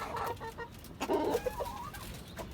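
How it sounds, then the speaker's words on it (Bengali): Chickens on a rooftop farm clucking in short, moderately loud bursts nearby, with a louder squawk near the middle and softer fowl calls scattered through, no people talking. "আর এখানে একটা মুরগি বসেছিল উঠে গেল হয়তোবা কিছুক্ষণ পরেই দিবে ডিম"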